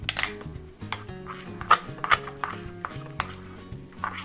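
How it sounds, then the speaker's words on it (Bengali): Idli batter is worked by hand in a bowl, giving irregular close wet slaps and clinks of the bowl in an uneven rhythm, with no speech. "এবার এটা মাখিয়ে দিলাম ভালো করে।"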